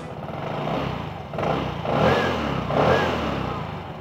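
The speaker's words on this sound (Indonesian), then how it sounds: "Suara knalpotnya sih senyap ya, suara knalpotnya senyap. Coba kita gas dikit-dikit." A 2020 Vespa Sprint CVT automatic scooter idles quietly, then rises in a few short revs, a low muffled exhaust hum with gentle surges of throttle, close by.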